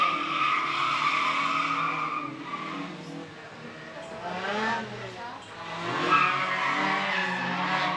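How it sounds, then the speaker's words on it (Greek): Ford Escort MK2 1600 drift car sliding on a race track, tyres squealing in long wavering screeches over engine roar, swelling and fading as the car passes, with a commentator talking over it. "Ο Πέρσος λοιπόν με ένα Ford Escort MK2 1600."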